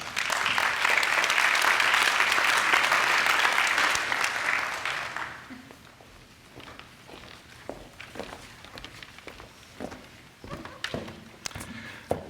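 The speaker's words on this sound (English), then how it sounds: "they clap easily" Audience applause at a university presidential investiture ceremony, a dense, loud burst of clapping that lasts about five seconds and then thins to scattered claps and faint shuffling.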